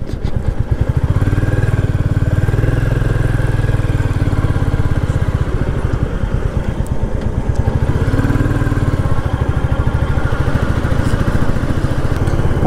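Motorcycle riding on the road past a toll gate toward Maithon Dam, its engine a loud, close, continuous drone with steady rumbling throughout and no talk.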